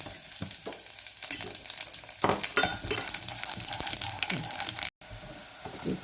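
Spices for chaat cooking in a pan over a very low flame, a soft continuous sizzle with scraping stirs and light clinks, close and fairly quiet.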